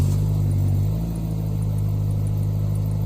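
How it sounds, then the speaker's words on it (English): A first-generation Renault Scenic with a cold engine, heard from outside, gives a steady low engine rumble with a slight shift in tone partway through, loud and close with no talking. "I will let you hear from outside how the car starts, if it starts."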